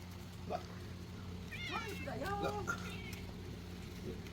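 A cat meows a few times in short, rising cries over a steady low hum, with soft background noise.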